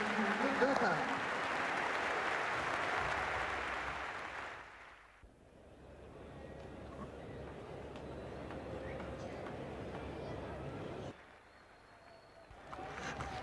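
Cricket crowd at a 1991/92 test match against Australia applauding Tendulkar's fifty: a broad, steady wash of clapping for about five seconds, then a quieter murmuring crowd bed with commentary voices talking over it.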